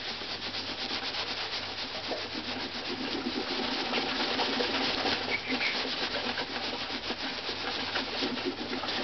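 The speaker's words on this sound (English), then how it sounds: "Immediately rub it in. It's round and round and round and round and round." Soft, continuous rubbing of a cloth working Flitz metal polish round and round into violin varnish, a steady close-up swishing texture without speech.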